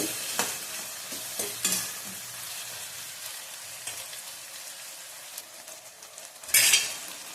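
Tomatoes fry in a pan for a paneer matar pulao, a faint continuous sizzle with a few scattered stirring clinks and one louder scrape near the end, no talking.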